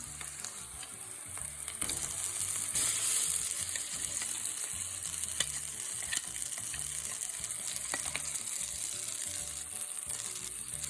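Freshly ground masala fries in hot oil for avarekalu, giving off a soft, steady sizzle with occasional stirring scrapes and small crackles.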